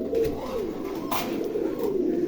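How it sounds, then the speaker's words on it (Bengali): Tumbler pigeons coo softly in a loft of fancy breeds in Rajshahi, with low, rolling, overlapping coos heard close and continuous against light background noise. "দেখেন কবুতর দেখেন।"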